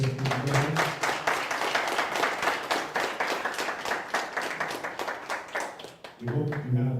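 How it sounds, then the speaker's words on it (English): Audience applause for a guest speaker at an entrepreneurship event, a dense spread of clapping from a room of people, moderately loud and sustained, with voices briefly audible at the start and end. "Last round of applause for our special guest."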